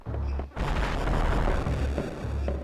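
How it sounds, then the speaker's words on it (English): A bomb blast from the morph ball in the Metroid Fusion video game, a loud, booming explosion with a rumbling low roar that fills the space and sustains for a couple of seconds with no talk. "have a huge explosion come out of my ball"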